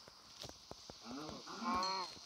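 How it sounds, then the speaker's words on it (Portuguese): A cow moos in the Minecraft video game, a low drawn-out call rising in the second half, preceded by a few faint clicks and small in-game sounds. "Nossa, tem uma vaca ali."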